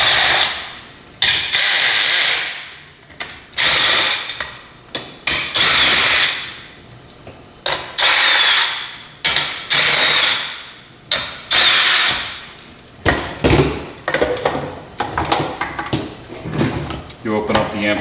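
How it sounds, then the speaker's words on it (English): Power drill fitted with a 1/2 inch socket driving bolts on a Scientific Atlanta GainMaker cable amplifier: repeated short loud whirring bursts with ratcheting, clicking gaps between them, close up. "You can use a drill with a 1/2 inch socket, or you can use a regular manual socket set, again 1/2 inch."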